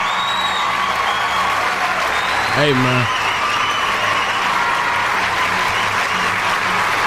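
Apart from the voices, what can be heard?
audience applause and cheering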